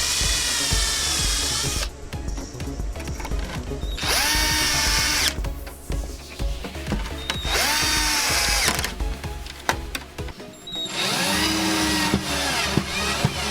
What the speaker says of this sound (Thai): จากนั้นเจาะนะครับเจาะติดบานพับ